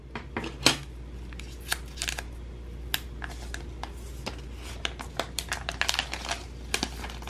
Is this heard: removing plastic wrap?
yes